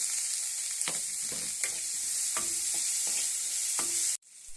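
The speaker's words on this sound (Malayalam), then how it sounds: "പച്ചമണം മാറുന്നത് വരെ ഇളക്കി കൊടുക്കുക" Onion and tomato frying in oil for a Kerala-style crab curry, a constant bright sizzle with repeated spoon scrapes and taps as it is stirred, ending abruptly.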